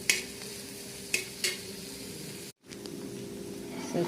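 Cleaned fresh small shrimp sauté in oil with garlic, curry leaves and onion, a steady close sizzle with a few sharp stirring scrapes and a brief cut-out midway.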